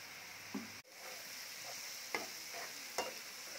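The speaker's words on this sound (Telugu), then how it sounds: "అల్లం వెల్లుల్లిపాయ పేస్ట్ కొంచెం స్మెల్ పోవాలండి. పచ్చివాసన పోయేదాకా వేయించుకోవాలి." Ginger garlic paste fries with onion paste and turmeric in a pan, giving a quiet steady sizzle with a few soft stirring scrapes and one brief dip partway through.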